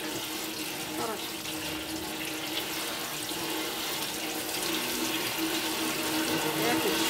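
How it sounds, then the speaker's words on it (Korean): Tap water runs steadily into a sink while perilla leaves coated in doenjang are rinsed under the flow, making a continuous close splashing wash with no pauses. "이거를 흐르는 물에다 이렇게 씻어야 돼요"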